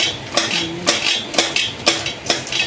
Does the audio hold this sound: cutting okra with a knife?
yes